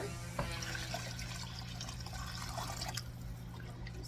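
Water is poured into a pot of Fijian-style chicken palau, a soft continuous trickle with a few faint splashes and drips, quiet and close.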